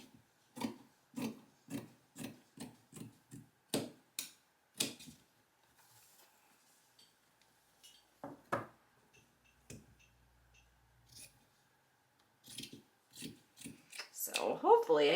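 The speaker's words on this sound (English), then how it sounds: "now I am going to take my fabric scissors, and cut some of this off" A run of crisp, rhythmic snips from fabric scissors cutting cloth, close up and fairly quiet, with pauses and a few faint rustles between cuts.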